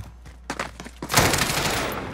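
Submachine gun fire in a video game match: a few sparse cracking shots, then a sustained dense burst of rapid fire, loud and close, with no talk.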